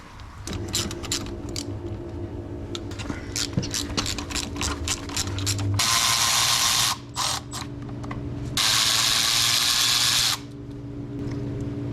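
A ratchet clicks in quick repeated bursts while the brake caliper is removed from a 1994-2002 second-generation Dodge Ram 2500 pickup. Two longer stretches of loud, steady power-tool whirring break up the ratcheting.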